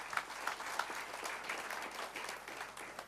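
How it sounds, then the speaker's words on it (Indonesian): Congregation clapping in a church service, a short burst of dense, steady applause lasting a few seconds with no speech. "Kasih tepuk tangan buat Tuhan."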